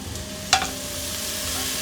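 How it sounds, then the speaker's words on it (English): Garlic dropped into a hot pot for Texas Red chili, one sharp sizzling burst followed by a steady, close frying hiss. "Now we're gonna go ahead and go in with our garlic"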